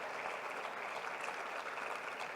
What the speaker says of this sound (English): Can you kindly give her a rousing round of applause